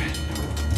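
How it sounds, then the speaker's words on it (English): A train approaching in the video game Uncharted: The Lost Legacy. It gives a loud, close, continuous rumble and roar with no talk, across a very short span. "Train's getting closer!"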